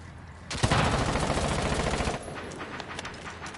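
Automatic gunfire from a weapon in Rainbow Six Siege rips out loud and close in one sustained burst lasting about a second and a half, then thins to scattered quieter shots.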